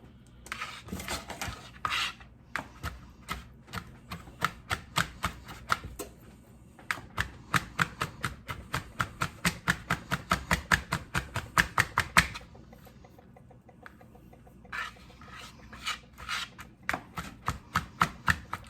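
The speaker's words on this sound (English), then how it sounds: "pull off the leaves. And chop it up." A knife chops fresh herb leaves on a cutting board in quick rhythmic bursts of crisp taps, close and clear, with a pause partway through before the chopping resumes.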